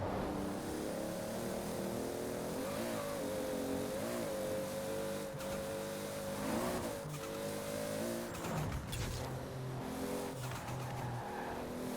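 A Toyota Supra in the racing game Forza Horizon 4 accelerates hard, its engine note climbing and dropping through gear changes with a sustained loud whine and some tire noise, no talking.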